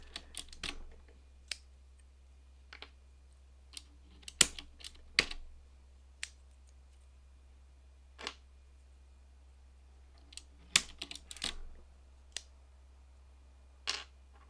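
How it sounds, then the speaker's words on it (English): A keycap puller pries keycaps off a mechanical keyboard with MX blue switches, giving sharp, scattered plastic clicks and snaps at uneven intervals over a quiet background. "This keycap puller is not the best,"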